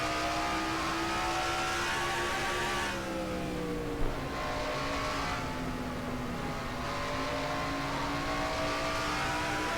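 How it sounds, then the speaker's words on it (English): Onboard engine of a race car lapping Wilkesboro in a racing video game, a loud continuous high whine with shifting harmonics as the revs climb and dip through the corners, heard alone. "On board, Joshua Osborne is going to take a lap around Wilkesboro with him."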